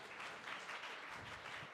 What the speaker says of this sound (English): So let's give Charlie one more big round of applause